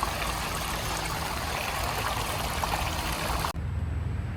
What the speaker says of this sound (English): There's a display spring out here.